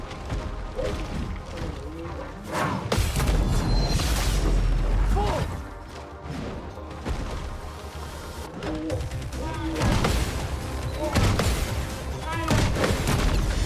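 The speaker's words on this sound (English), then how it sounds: "I just countered his cannon shots." Dense battle noise from the role-playing game Expedition 33, with repeated cannon shots as heavy booms and crashes layered over game music and effects, all loud and continuous.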